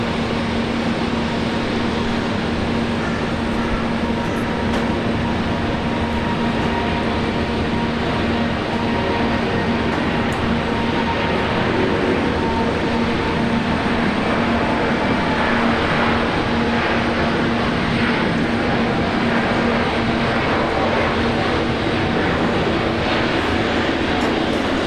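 Aircraft landing on runway 01 right at Brisbane Airport: a continuous, loud jet engine roar with a steady hum, sustained and unbroken for the full length, with no voices.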